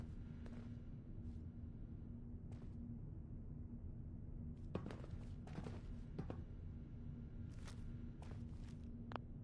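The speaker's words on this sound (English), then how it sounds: "But I hear big fat footsteps on the other side." Heavy footsteps in Fallout 4 thud behind a door, a few scattered louder steps and impacts over a constant low hum, fairly distant and muffled.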